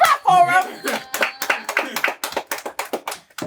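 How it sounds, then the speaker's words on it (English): Brief, uneven clapping from a small studio audience for a singer, with sharp hand claps spaced loosely over a few seconds and a voice speaking and laughing over them. "Clap for him."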